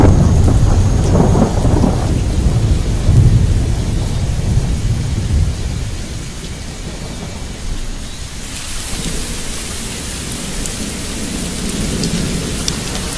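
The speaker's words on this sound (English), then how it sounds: "At the height of the wet season, it rains almost every day." Wet-season thunderstorm with heavy rain, low rolling thunder rumbling early on beneath a steady hiss of downpour that grows denser and brighter near the end, with no voices.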